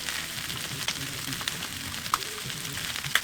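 Hamburger steak patties seasoned with salt and pepper sear in a pan over high heat, giving a steady dense sizzle and crackle with occasional sharp pops, close and continuous.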